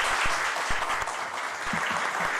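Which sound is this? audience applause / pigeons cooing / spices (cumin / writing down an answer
audience applause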